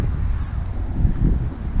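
Steady low rumbling wind buffeting the microphone while fishing in the Everglades, constant and close throughout, with no other distinct sounds.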